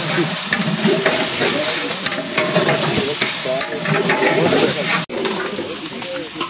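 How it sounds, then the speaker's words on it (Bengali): A large pot of khichuri is stirred, giving a dense, continuous scraping and bubbling churn up close, with voices talking faintly underneath and one abrupt brief cut. "নাড়ার কাজ শেষ হয়ে গেছে"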